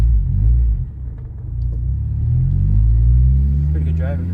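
Interior engine and road rumble from a 2008 Honda Civic Si being driven, a steady low drone that swells slightly as the car pulls along, with someone talking over it.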